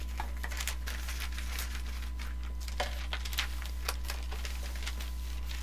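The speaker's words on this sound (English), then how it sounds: "just slide your scissors all the way up that cut" Scissors slide through wrapping paper folded around a gift box, giving a continuous close crinkling, rustling hiss with small crackles and no talk, set over a steady low background hum.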